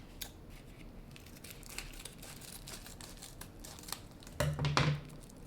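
A Pokémon card pack's foil wrapper is cut open with scissors, with soft crinkling throughout, then a louder burst of crackling and snipping near the end, close by and with no talking.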